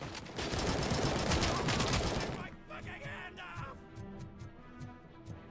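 AK-47 fire in RoboCop: Rogue City, a dense loud automatic burst for about two seconds, followed by quieter game sounds and a few sharp clicks.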